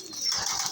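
Shirazi pigeons feeding give a brief, soft cooing murmur, fairly close and steady over less than a second.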